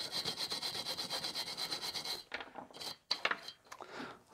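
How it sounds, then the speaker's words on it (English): A small brush scrubs a metal Coleman double mantle lantern part, a quiet rapid back-and-forth rasping that runs steadily, then breaks into short, scattered strokes and a light tap near the end. "I'm going to take a small brush and I'm going to work around here with the brush"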